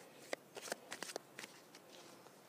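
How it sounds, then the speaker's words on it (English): Flower therapy oracle cards shuffled close and quietly in a series of soft, quick riffling bursts over a near-silent background. "So I'm going to go ahead and shuffle."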